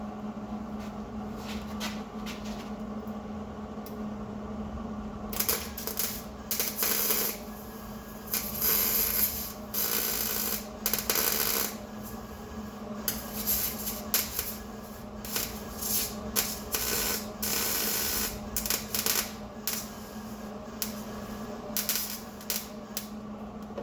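A welder works on the exhaust of a Grand Cherokee, a series of short, crackling bursts of varying length separated by brief pauses over a low steady hum, close and fairly loud, with no talking.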